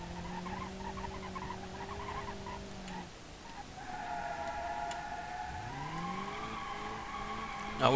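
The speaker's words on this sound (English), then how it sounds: "Now with a front-wheel drive car like this, you are going to get some understeer like this." A front-wheel drive Ibishu Pessima 2.0 LX in the BeamNG.drive racing game drones along with a tonal engine note, dips briefly, then climbs again with sweeping pitch changes and a sharp burst at the very end.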